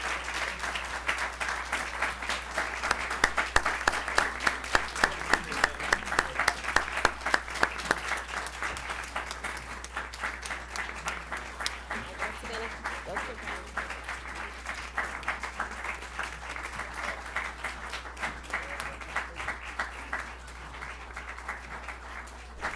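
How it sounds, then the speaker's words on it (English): A school board meeting audience applauds after an 8-4 vote, sustained clapping from a room of people that swells early, then continues at a steady, moderate level and gradually thins toward the end. "Now you may applaud."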